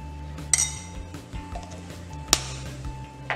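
A spoon stirs Eno into batter in a bowl, making a few sharp clinks against the rim between softer scraping sounds, close and otherwise quiet.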